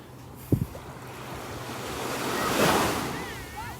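Ocean surf washes onto the beach at Delnor-Wiggins on a morning walk, a steady hiss of breaking waves swelling into a louder wash near the end, with wind buffeting and a brief thump early on.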